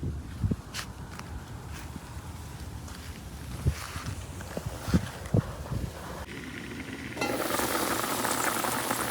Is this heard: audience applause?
no